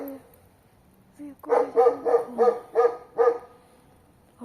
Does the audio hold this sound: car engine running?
no